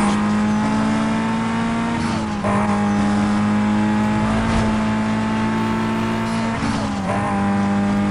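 A race car launches from the start in Need for Speed: Most Wanted, its engine droning loud and close, then climbing in pitch through the gears with brief dips at each shift, around 2 and 7 seconds.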